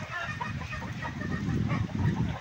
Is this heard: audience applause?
no